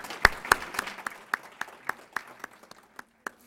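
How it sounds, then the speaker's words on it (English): Applause from an audience at a lunch-and-learn talk, a short patter of claps that thins out quickly to a few scattered hand claps, moderately near. "Round of applause for Mr. Touré."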